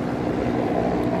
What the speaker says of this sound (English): I seem to luck out once again and get a little helicopter action